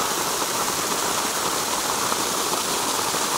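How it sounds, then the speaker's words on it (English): Waterfall roaring close by, a steady, dense broadband rush of falling water with no breaks, loud and continuous throughout with no voices. "I'm not sure if you'll be able to hear me right next to this waterfall"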